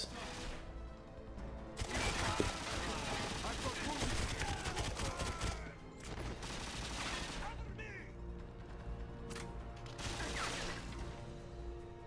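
Gunfire in the video game 007 GoldenEye Reloaded, set in St. Petersburg's Memorial Park, comes in dense rapid bursts of automatic shots, with pauses between volleys and faint speech underneath.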